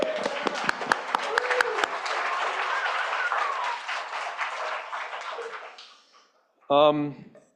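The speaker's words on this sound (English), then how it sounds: "could you just applaud her one more time" A church congregation applauds for several seconds, then the clapping fades out and a voice begins speaking.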